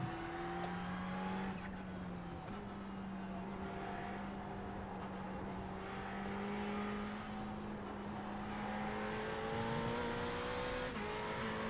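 Ferrari 488 GT3 racing around Lime Rock in the iRacing simulator, the engine note rising and falling through gear changes under hard braking and acceleration, loud and continuous, with tire noise.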